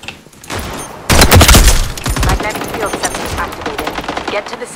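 Sniper rifle shots in the video game Veiled Experts, a loud sharp burst of gunfire followed by rapid rattling shots and clatter, with faint speech mixed in.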